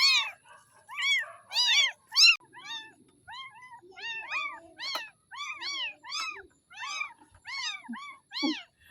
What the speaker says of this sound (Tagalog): Tatlong kuting tinapon.